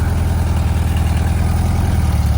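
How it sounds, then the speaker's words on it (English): Orange VW Beetle engine as the car rolls out, a loud steady low throb with a fast even pulsing rhythm, close by and unbroken. "Look at this beautiful orange Beetle rolling out."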